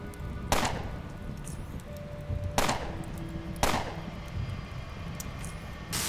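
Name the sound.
gunshots in the video game Underrail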